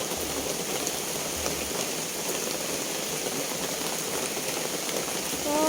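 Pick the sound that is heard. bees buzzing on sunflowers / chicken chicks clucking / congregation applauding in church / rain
rain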